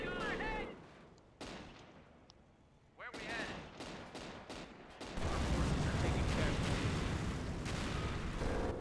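Machine gun fire in a battle strategy video game, with sharp bursts of shots followed by a dense, continuous fusillade of gunfire, loud and close.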